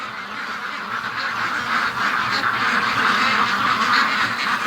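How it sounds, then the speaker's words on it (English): A flock of ducks quacking loudly and continuously at a farm, many birds calling over one another in a dense, steady clamour just after being woken at daybreak. "I won't be waking the ducks up that way again"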